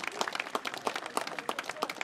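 An audience at an oldboys' tournament applauds in a brief burst of dense, rapid clapping at moderate distance, with no voices standing out.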